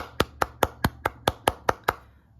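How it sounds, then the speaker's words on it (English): One person claps nine times in a steady, even rhythm, crisp and close, with no other voices or sounds. "Give yourself a round of applause."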